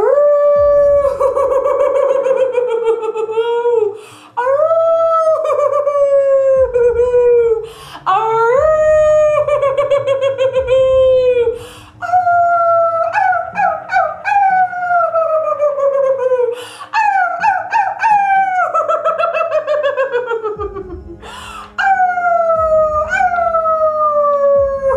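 Loud, close vocal imitations of werewolf howls from a group during a Halloween laughter yoga session, long rising and falling wails repeated one after another for about twenty-five seconds with short gaps between them.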